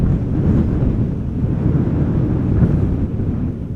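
Wind blows at Amsterdam Schiphol Airport, a steady low rushing roar with gusty buffeting against the microphone, continuous and fairly loud with no voices.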